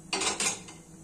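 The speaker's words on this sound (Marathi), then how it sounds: "त्यावर कढई ठेवून घेऊया" A kadhai (wok) set down on a gas stove, with two quick, close metallic clanks and a fainter third knock trailing off.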